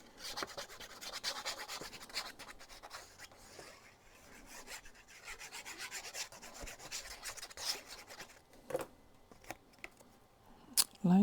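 Paper being burnished onto the spine of a handmade vintage Halloween scary story album, a soft repeated rasping rub in short strokes, close and fairly quiet, with a few light taps near the end.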